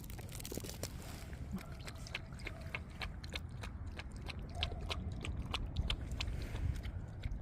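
A puppy chews and eats banana up close, with a steady run of wet, smacking bites and small clicks of teeth over a soft background hum.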